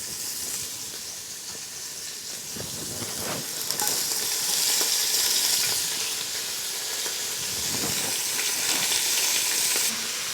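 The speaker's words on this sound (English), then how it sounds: "I've just added some more oil to the pan, and I'm now going to put the onions in." Onions sizzle in hot oil in a pan for a French onion pot roast. The hiss is loud and continuous, swelling as they settle, with faint stirring underneath.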